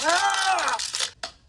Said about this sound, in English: you're just squeezing an empty water bottle